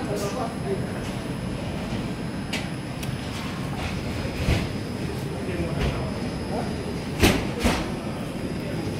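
A train rumbles steadily into platform 4 of an Italian station with clanks and sharp metallic squeals, while an Italian public address voice speaks over the noise.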